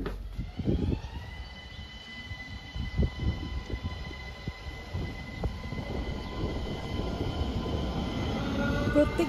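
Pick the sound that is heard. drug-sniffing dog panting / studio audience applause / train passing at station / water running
train passing at station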